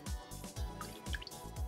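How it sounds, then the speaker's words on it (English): A paint brush dipped and swished in a pot of water, giving quick wet drips and small splashy plops repeating in a rhythmic series, close and fairly quiet. "just by putting the brush in the water, in my pot of water"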